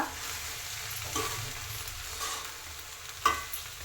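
Onions are stirred into a green gram stir-fry in a pan: a constant close frying hiss with repeated scraping spoon strokes and one sharper knock near the end, no voices.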